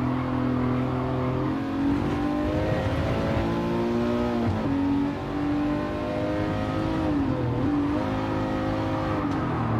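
A Ferrari race car engine accelerating in Gran Turismo 7 drones loudly and continuously, its pitch rising and dipping through gear changes and corners, with no talk over it.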